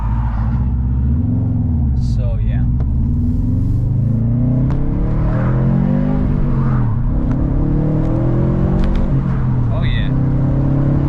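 A 2016 Subaru WRX STI drives after an ABS and speed sensor replacement, its engine loud and close, rising and falling as it accelerates and shifts, with brief talk from the occupants over the engine noise.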